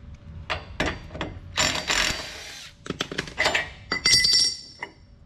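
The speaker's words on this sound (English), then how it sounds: "we're just gonna take that bolt off on both sides" Metallic clinks and short ratcheting bursts come from a 9/16 tool loosening bolts on a boat trailer's side bunk, heard close up in irregular clusters with short pauses between them.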